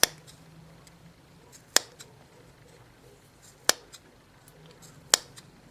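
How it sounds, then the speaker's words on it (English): Four sharp snips from Leatherman Wave multi-tool scissors cutting paracord, spaced a couple of seconds apart, crisp and close, with quiet handling noise between them and no talking. "So I'll just bring in a little bit of paracord to give that a test on."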